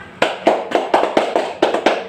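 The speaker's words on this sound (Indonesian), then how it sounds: "Untuk kelompok 1 silakan beri tepuk tangan ya anak-anak" Students in a classroom give a short round of applause, about nine sharp clap bursts in a steady rhythm over two seconds, close and fairly loud with no talking.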